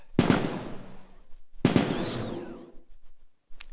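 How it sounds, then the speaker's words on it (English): Two loud, sharp bursts of the Starling Shot ranged attack in the fantasy game ToME: Embers of Rage, each a crackling blast that decays over about a second, followed by a brief faint tick near the end. "Let's start off attacking this guy with Starling Shot."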